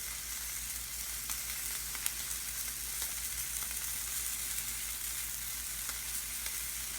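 Steak fries on an indoor stove with a constant, close sizzle, dotted with sharp crackles and pops over a low, even background hum.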